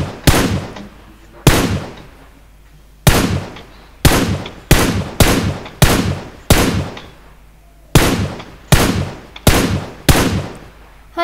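Gunshots in the battle-royale game BGMI as players shoot out a vehicle's tyres, a series of about a dozen loud, sharp single shots at irregular intervals, each decaying quickly, with no talk over them.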